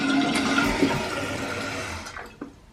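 A toilet tank refills with water during a repair, a steady rushing hiss of running water that fades toward the end, close by.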